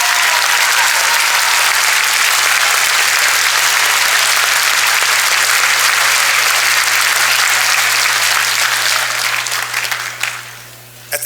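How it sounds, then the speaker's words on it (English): A graduation ceremony crowd applauds the class of 2016 with loud, steady, sustained clapping that fills the hall and then tapers off at the end. "So let's give them one last round of applause."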